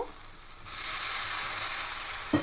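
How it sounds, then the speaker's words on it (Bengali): Spice masala sizzles in a pan with a splash of water and salt for an omelette curry, a steady broadband hiss that jumps in after a quieter start and runs on with a small knock near the end. "দিয়ে মশলাটাকে একটু কষে নেব কাঁচা গন্ধটা চলে যাওয়া পর্যন্ত"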